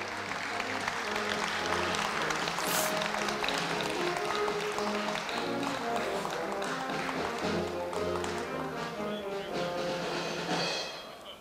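Congratulatory applause at a university anniversary award ceremony, sustained crowd clapping over music with a strong beat, running for many seconds before tapering near the end.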